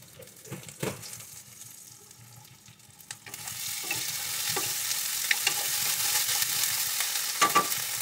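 A spice paste of ground coriander and cumin with salt frying in a pan, a steady close sizzle that swells after a few seconds, broken by scraping stirs and occasional clinks of the spoon.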